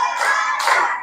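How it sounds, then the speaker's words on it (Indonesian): A fifth-grade class performs a patterned group clap in a classroom: two dense bursts of many hands clapping in unison, loud and close, with no talking over it. "Tepuk 5."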